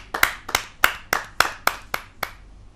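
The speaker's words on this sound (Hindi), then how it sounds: "आपकी जोरदार तालियां उस कवित्री के लिए बजे।" A kavi sammelan audience claps for a poet: about eight sharp, evenly spaced hand claps, close and distinct, with short silent gaps between them and no talking.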